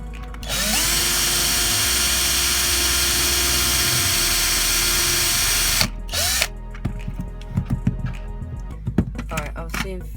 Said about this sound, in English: I don't want to drill all the way through because I want to be able to push the pin out.